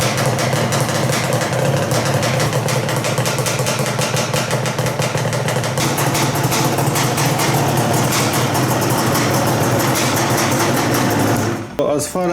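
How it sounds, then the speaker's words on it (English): A 2006 Yamaha Banshee ATV engine runs at a fast, buzzing idle after a flywheel replacement, loud and close, with a rapid steady rattle before cutting off at the end. "I'm going to start the engine now."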